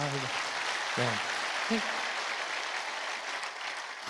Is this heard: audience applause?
yes